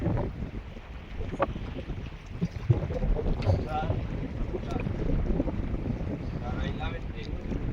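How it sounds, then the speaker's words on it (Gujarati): Wind blowing while fishing from a boat, a steady broadband rushing roar filling the whole stretch, with faint speech under it. "કાલે સાવ શાંત વાતાવરણ હતો, આજે પવન છે."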